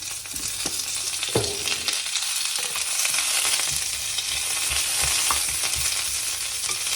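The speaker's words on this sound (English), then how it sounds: "Once the garlic and chili changes its color, just add some curry leaves." Frozen curry leaves sputter into hot oil with garlic and chili, a loud, continuous crackling sizzle with sharp pops and occasional scrapes of stirring close by.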